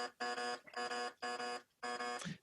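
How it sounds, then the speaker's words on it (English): Four short buzzes from a quiz buzzer, evenly spaced with brief gaps, thin and fairly quiet, standing alone. "That is the weakest buzzer ever."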